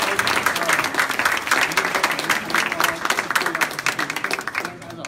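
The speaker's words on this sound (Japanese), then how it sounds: "今一度大きな拍手をお願いします。" A crowd at a Japanese speech contest applauds with dense, sustained clapping that fills the hall, close and loud, and tapers slightly at the end.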